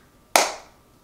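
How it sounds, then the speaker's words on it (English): A single sharp clap from preschool children during a counting lesson in a classroom, one crisp burst that decays quickly, with no talk over it. "Now clap your hands once."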